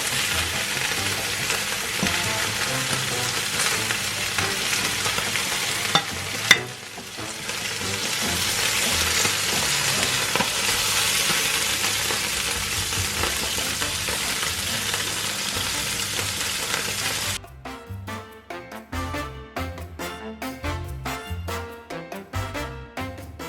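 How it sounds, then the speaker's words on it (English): Sausage browns in a frying pan, giving a continuous loud sizzle and crackle for most of the stretch, with a brief stir midway, then a quieter, choppier spitting near the end. "I'm also going to turn over the sausage once it's browned."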